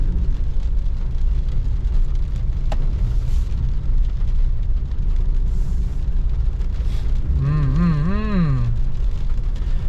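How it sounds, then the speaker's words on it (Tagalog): Rain falls on a moving Mitsubishi Strada driving along a wet city road, a constant loud wash of drops and road noise throughout, with a brief warbling tone near the end. "Naririnig niyo ba yung patak na yan guys?"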